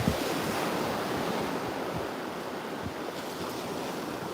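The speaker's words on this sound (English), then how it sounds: "The great sound of the waves in the background." Ocean surf on a Sanibel beach at sunset, a steady close wash of breaking waves with a soft hiss and faint wind rumble, the roar easing slightly toward the end, no talking.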